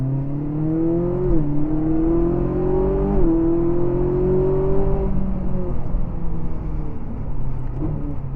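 A Ferrari 458 engine on a race track drops through gears, its loud, close tone stepping down with each downshift and then settling into a steady drone.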